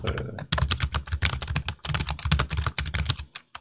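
Fast, continuous typing on a computer keyboard while editing a readme file, with crisp, close key clicks in quick irregular bursts and only a brief pause near the end.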